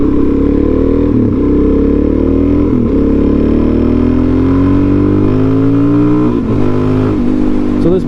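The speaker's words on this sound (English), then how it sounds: "it does have a stock exhaust still, but it's been modified and the baffles have been ripped out of it" Loud, close revving of a Suzuki DRZ400SM supermoto whose stock exhaust has had its baffles removed, the single-cylinder engine rising steadily in pitch over several seconds with brief throttle chops and a raspy, unmuffled tone.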